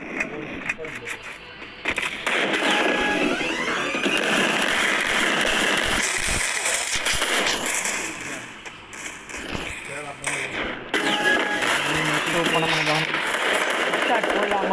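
Shotgun fire in the Free Fire mobile game, M1014 and SPAS12 shotguns: repeated sharp blasts and crackling gunfire through a busy, loud battle, with someone talking over much of it.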